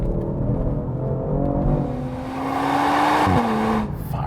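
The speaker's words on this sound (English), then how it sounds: "let's see what this exhaust sounds like" A Genesis G70 turbo V6 engine rises in pitch as it accelerates, the exhaust note droning steadily then dropping sharply as the gear changes, recorded close.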